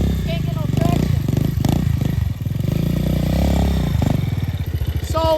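A pit bike motorcycle rides at a skatepark, its loud, close engine buzzing and revving unevenly amid clattering and scraping, with people talking over it.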